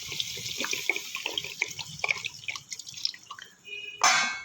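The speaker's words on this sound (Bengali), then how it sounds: "জল দিয়ে দেবো।" Water is poured into a cauliflower curry in a pan as it cooks, a close trickling, splashing pour that runs for a few seconds, ending in a louder gush.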